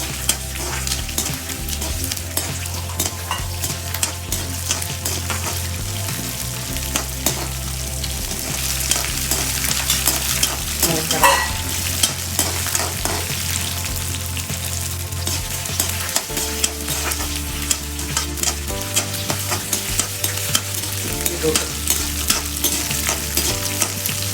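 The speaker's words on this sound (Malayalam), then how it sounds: "ഇട്ടൊന്ന് വറക്കണം" Beetroot chutney ingredients frying in a hot pan while being stirred, a loud continuous sizzle with constant scraping and clattering of the spoon, no voices.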